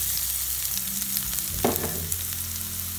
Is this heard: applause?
no